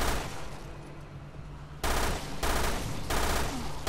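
Short bursts of gunfire in Resident Evil Revelations 2: loud, close automatic fire in a few abrupt blasts, separated by brief gaps, over a steady game backdrop.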